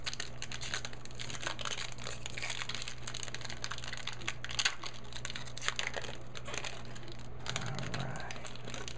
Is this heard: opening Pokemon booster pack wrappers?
yes